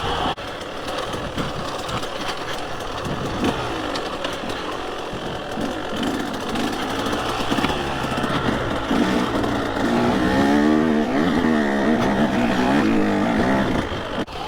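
A KTM 150 SX two-stroke dirt bike, a 125 bored out to 150, runs on a trail at Boulders OHV, its engine buzzing loud and close the whole time, revving up and down with steady mechanical rattle.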